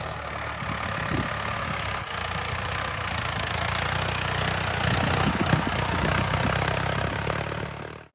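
A tractor clearing a farm field in Konkan gives a steady, low engine rumble with a chugging, knocking quality throughout, loud and close, with no one speaking.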